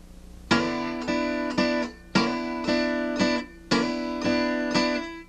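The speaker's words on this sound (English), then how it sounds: "So it's a quick slide from right here" Chords on an acoustic blues guitar, each a quick slide across three strings, repeated in three pairs with bright ringing strums that fade slightly before the next, played close and with no talking.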